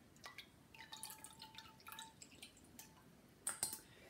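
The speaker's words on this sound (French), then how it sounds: "on voit ici que le jus a commencé à couler." Vegetable juice dripping as it strains, faint scattered drips and small liquid taps in a quiet room, a few louder drops near the end.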